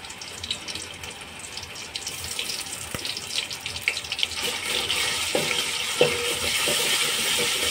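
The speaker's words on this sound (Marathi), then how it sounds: "तेल आपलं चांगलं गरम झालेलं आहे. आपण तेलामध्ये टाकतो अद्रक लसूणची पेस्ट," Ginger garlic paste dropped into hot oil for Kolhapuri chicken rassa, a steady hissing sizzle that builds and grows louder partway through, with a few stirring clinks and scrapes.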